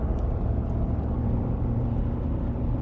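A car towing a 3-metre trailer on a long road trip accelerates in second gear, its engine giving a steady, loud low rumble with constant road noise throughout.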